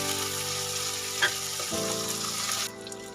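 Chopped tomato tossed into a hot pan with ginger and garlic over a high flame, crackling in a steady loud sizzle with a stir or two, then quieting somewhat toward the end.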